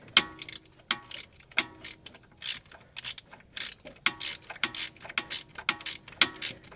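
A ratchet wrench with a 12 mm socket tightens a bolt on the power steering belt of a Toyota Camry 2.2L 5S-FE engine, giving repeated rapid clicking bursts in a steady rhythm, close and crisp, with no talk.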